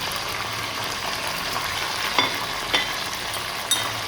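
Potatoes and peas sizzle in oil in a pan for pulao, a steady frying hiss with a few sharp spoon clinks as they are stirred.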